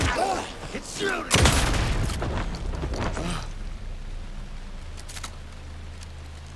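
Gunfire in Alan Wake II: a loud burst of shots early on, fading into a dim, rumbling in-game ambience, with a voice speaking briefly underneath.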